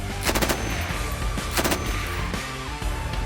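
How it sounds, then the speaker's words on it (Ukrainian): Bursts of FN MAG machine gun fire, loud and close, in rapid strings of shots with short pauses between them. "Можна заявити, що цей кулемет є одним з найкращих видів стрілецької зброї в Збройних силах України."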